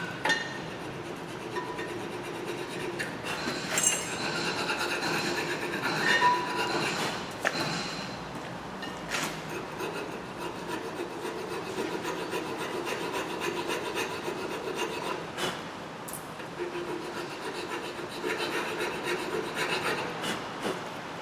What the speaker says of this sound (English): Just taking off all the brake dust where the hardware sits.